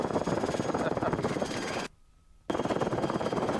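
A RotorWay kit helicopter in flight during a training session, its engine and rotor making a loud continuous chopping drone with rapid beats that cuts out briefly in the middle and then returns, with no talking.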